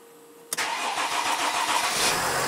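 A cold Mercedes ML 320 engine cranks and catches after a quiet start, a sharp ignition burst settling into a steady, slightly rising idle roar.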